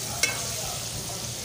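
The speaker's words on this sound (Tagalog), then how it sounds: "Tapan ko muna guys, ipaluto ko muna ng sibuyas." Onions fry in a pan with a steady close sizzle, a brief utensil click near the start, and a constant hiss for the rest of the moment, with no voices.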